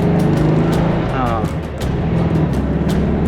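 A 1959 Porsche 356 driving past, its engine a loud close rumble under people talking, with a brief rising whine midway and a passing sweep.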